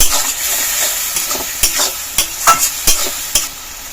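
Spice paste with a splash of water is stir-fried in a pan, giving a constant sizzle broken by sharp scraping strokes of a spatula that come in a quickening series near the end, close and fairly loud, with no voices.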